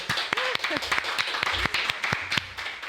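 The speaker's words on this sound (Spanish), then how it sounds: "Un aplauso para Mira Lewy, por favor." A studio audience applauds a guest named Mira Lewy on an interview show, with scattered claps and a speaking voice over them, loud against the background.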